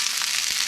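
Broccoli sizzles in a hot pan with olive oil, a short, loud and steady frying hiss close up with no voices.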